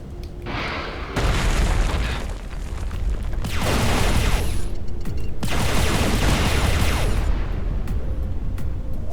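Deep missile explosions boom in the Everspace 2 space game as the core entrance is blasted open, with a short burst followed by two long, loud rumbling blasts that roll on with crackling debris.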